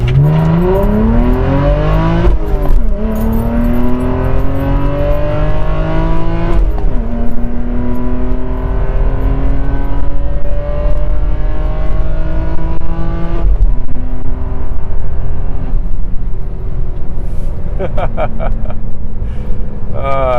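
A naturally aspirated inline-six engine in a 2009 BMW E92 328i revs loudly and continuously, climbing through the gears with smooth rising whines and brief drops at each shift, heard up close.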